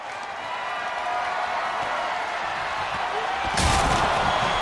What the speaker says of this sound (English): Black putting him through the table.